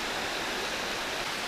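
Steady, loud rushing roar of a waterfall at the São Miguel falls, continuous and even with no breaks and no voices.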